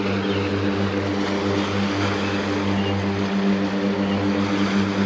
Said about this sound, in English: Let's watch the plane take off.